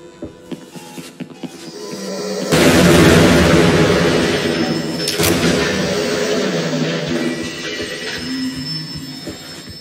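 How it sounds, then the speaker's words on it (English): Heavy bomb blasts in the video game Earth's Shadow erupt as a loud, sustained roar that swells suddenly and rumbles on with a second burst, layered over game music and ambience. "These bombs."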